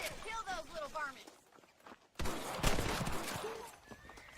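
Rifle shots fired at rabbits in the Western game Red Dead Redemption: a sharp loud report midway, followed by a lingering echoing tail, after quieter game sounds and voice-like chatter at the start.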